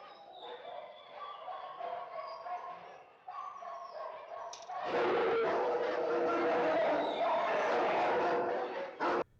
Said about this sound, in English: the cacophony of barking dogs